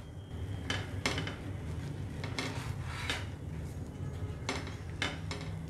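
Masala sandwiches frying in ghee or butter on a pan are turned over with a spatula, producing a series of light metallic scrapes and clinks against the pan over a low steady hiss.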